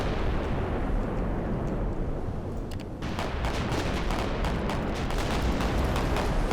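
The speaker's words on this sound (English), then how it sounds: "fire some shells at this class cruiser" Naval guns fire shells at a Sendai class cruiser in the game Victory At Sea Pacific, a dense rumbling barrage with repeated sharp reports through the second half, loud and continuous.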